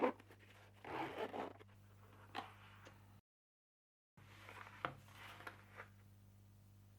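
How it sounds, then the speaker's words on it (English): A zipper on a travel bag pocket drawn open in short scratchy pulls, close and quiet over a steady low hum, pausing briefly in the middle before a few more faint rubbing strokes. "on the other side we get another zipper pocket"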